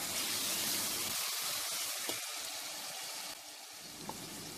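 Mutton pieces land in a pan of half-cooked tomatoes, giving a faint, continuous hissing sizzle with a few soft pops and no voices.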